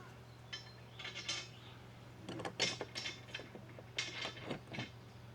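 Metal clinks and ratcheting clicks of a 10 mm wrench tightening roof rack bolts on a Jeep Gladiator, coming in scattered bursts at close range over a steady low hum.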